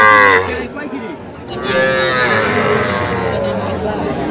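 Bull calf at a Faridpur cattle market moos in several drawn-out calls, loud and close, with crowd chatter and bargaining voices in the background.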